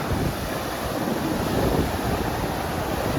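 Sea waves wash onto a shore where crabs are being caught, a steady broadband surf roar with wind buffeting the microphone throughout. No one speaks.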